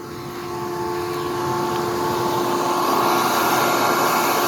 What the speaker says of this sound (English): this right here does the exhaust fans for the battery bank, because it's an air-cooled battery bank